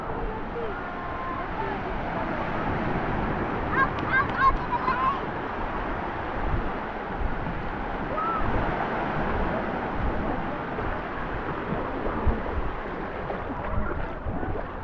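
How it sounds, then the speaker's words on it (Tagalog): Strong ocean surf rolling onto a black sand beach at a Davao City resort, a continuous loud wash of breaking waves with gusts of wind noise over the microphone. "Kusog lang ang waves."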